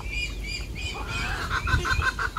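Ducks quack in a series of short repeated calls close by over a low background rumble, the quacks quickening toward the end.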